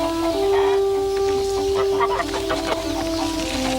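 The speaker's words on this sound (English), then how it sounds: "It was a cockerel." A cockerel clucking and calling nearby in a rural setting, a sustained throaty call followed by shorter broken clucks, loud and close.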